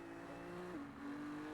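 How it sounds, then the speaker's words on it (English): A race car engine drones steadily in a racing video game on Detroit's Belle Isle circuit, its pitch stepping down once midway as if shifting, faint and continuous with no talk. "Is it just raw engine sound the whole time? Bro, I have to hear the tires."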